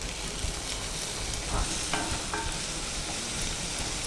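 Tempering for potato bhaji: spices such as cumin and asafoetida sizzle steadily in hot oil in a pan, a dense, close frying hiss with a few stirring clinks and no talk.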